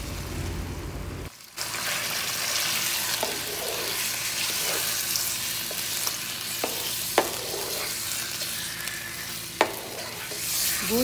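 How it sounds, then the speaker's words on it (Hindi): Chopped garlic and meat fry in hot oil for an Arabian wheat and meat soup, with a loud steady sizzle that starts sharply after a brief pause, plus a few clinks of stirring. "तेल में हम लहसुन बारीक कटा हुआ डालेंगे और साथ में हम गोश्त ऐड कर देंगे"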